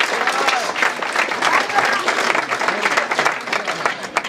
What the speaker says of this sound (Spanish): Fuerte aplauso a Garexel por eso,